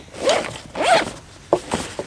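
A YKK zipper on a GORUCK GR1 backpack is pulled open in several quick close strokes, two longer rasping runs followed by short sharp tugs.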